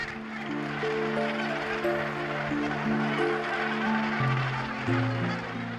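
A dense colony of about 20,000 Cape gannets at Bird Island, Lambert's Bay, South Africa, calls nonstop, overlapping honking and squawking cries forming a loud, busy chorus close by.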